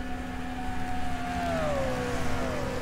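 Race cars at Riverside speed toward the final corner, a steady engine drone with a whining tone that dips in pitch as the cars pass, moderately loud and without talk.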